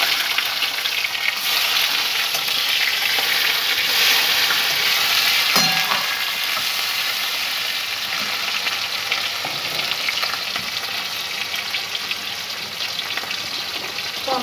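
Tomatoes frying in hot oil in a pan for a malai curry, giving a steady, loud broadband sizzle with stirring scrapes and one sharp clink near the middle, with no voices.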